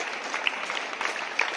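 An audience claps steadily at a school prize distribution, a dense patter of many hands with a few sharper claps, continuous and moderately loud.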